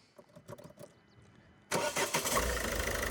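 A diesel car engine cranks and catches, then settles into a loud, steady idle right up close, after quieter clicks and faint knocks beforehand.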